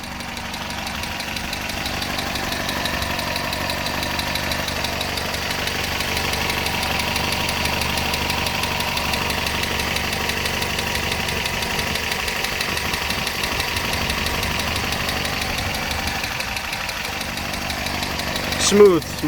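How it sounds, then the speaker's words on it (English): A 1971 Datsun PL521 engine idling smoothly, heard up close as a steady, even hum with a faint regular tick throughout, ending in a brief louder bump. "Very, very smooth engine."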